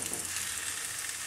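Pear slices sear in a hot pan, giving a steady, close, bright sizzle that holds evenly through the short moment with no voices.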